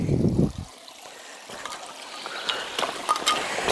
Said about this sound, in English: the stream is sometimes much bigger, faster and wider